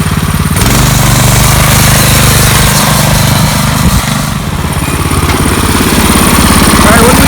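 A V-twin engine buggy on a high-speed run roars loud and close with a rough, pulsing rumble that holds steady for several seconds and briefly dips midway.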